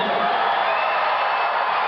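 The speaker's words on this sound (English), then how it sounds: "So the crowd responding to the Bulls' introduction." A basketball arena crowd at The Summit roars during the Chicago Bulls' player introductions at a 1991 game against the Rockets, a steady, dense wash of cheering with no break.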